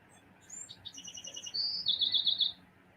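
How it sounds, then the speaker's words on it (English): A songbird sings outdoors on a warm day, a series of bright high chirps and trilled phrases rising in loudness, close and clear over a quiet background with no talk. "we have an amazing bird that decided to join us just before we went live."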